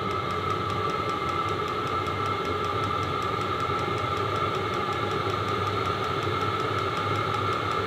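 A diesel heater runs on a bench test, giving a steady, even hum and whir with a constant tone and no pauses, fairly close and alone.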